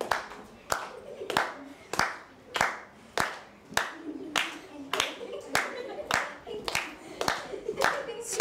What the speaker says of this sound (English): Clap the 16 together.